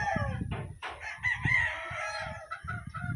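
A Golden Boy bloodline gamefowl rooster crows loud and close at a game farm, with a full cock-a-doodle-doo over a dense chorus of other fowl clucking and calling nearby.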